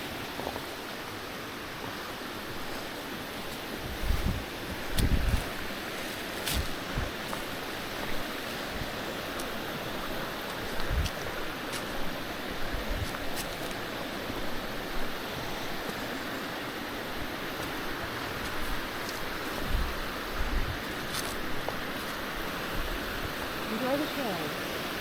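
Steady broadband rush of a waterfall along a hiking trail near Monte Sano, continuous and moderately distant, with occasional footsteps and people talking over it.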